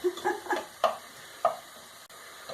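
Onions sautéing in a pan in a home kitchen: a few separate spoon scrapes and light clatters over a faint, soft sizzle, close and quiet, with no voices.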